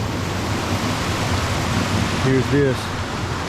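A jungle river flows steadily, making a broad, constant rush of water that fills the whole clip, while a person speaks briefly over it near the end.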